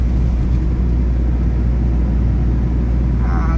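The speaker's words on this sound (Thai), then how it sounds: "ทดสอบบนถนนโดยการขับรถยนต์" A car drives over an uneven, stony road, heard from inside the cabin as a steady, loud low rumble of tyres and engine with no talking.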